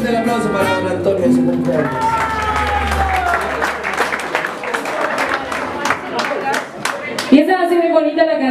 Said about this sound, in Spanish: más fuerte el aplauso para don Antonio